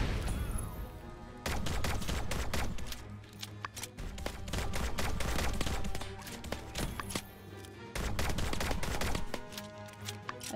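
Pistol shots during a fight in the video game My Time at Sandrock, a run of quick, sharp cracks in uneven bursts over busy combat noise, with short pauses between volleys.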